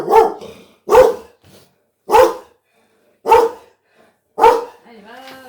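A dog barks five times in a steady rhythm, loud and close, with short pauses between barks and a faint whine at the end.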